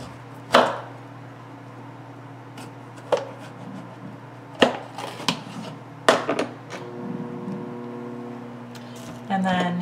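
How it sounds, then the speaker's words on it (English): A knife slicing the tops off peppers on a board for venison stuffed peppers, several sharp separate chops and taps spaced apart, close by, with a person talking between the cuts. "I'm just going to be cutting the tops off so you can stuff them"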